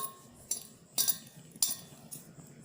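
A ladle mixing salt into food in a bowl, three or four distinct metallic clinks against the bowl at uneven intervals over quiet background.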